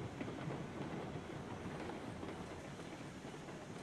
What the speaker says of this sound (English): What a good little locomotive.